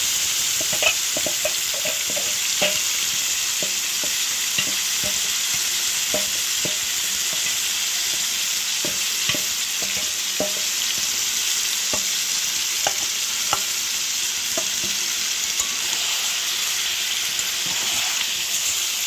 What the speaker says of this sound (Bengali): এবার আমি কড়াতে ভালো করে চিকেনটাকে একটু কুক করে নেব, নাড়ানাড়ি করে নেবো ভালো করে